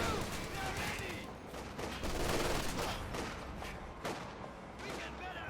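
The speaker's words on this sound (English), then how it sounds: "Snipers firing." Sniper and machine gun fire in the video game Company of Heroes 2 during a 2v2 match: scattered sharp gunshots and bursts of automatic fire mixed with battle noise, loud and close, repeating in uneven clusters.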